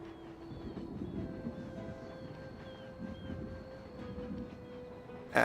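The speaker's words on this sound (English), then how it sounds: "Let's get him on a train. Boarding a train." Steady low rumble of a train in the Shogun 2: Fall of the Samurai strategy game, with faint tonal interface hums over it and a sharp click near the end.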